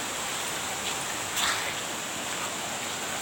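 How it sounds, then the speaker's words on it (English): Junjong waterfall in Kulim, Kedah, Malaysia pours in a steady, broad rush of falling water, a constant loud hiss filling the scene with no voices heard. "And then last you will meet the largest, the biggest waterfall."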